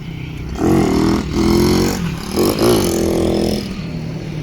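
A motorcycle being ridden at low speed, its engine rising and falling in a few short revs with a steady idle between them, close and fairly loud, with light clattering.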